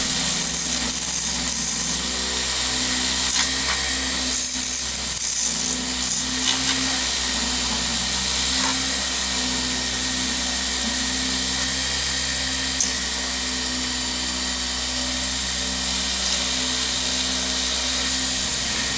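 A wood lathe spinning at 3,800 RPM turns a snakeskin pen blank between centers, giving a continuous high whine with steady tool-contact scraping and a low motor hum throughout, loud and close.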